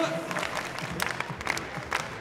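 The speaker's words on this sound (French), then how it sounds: "pas peur, on applaudit, on met de l'ambiance." An audience claps, thin scattered applause mixed with a voice speaking over it.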